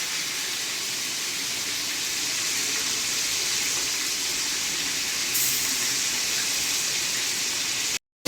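Hilsa fish frying in hot oil in a home kitchen, a dense, steady hiss of sizzling that carries on without pause for the whole stretch, loud and close, with no voices.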